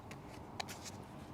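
Tarot cards shuffled by hand during a quiet healing session, a few short crisp riffling bursts close to the microphone.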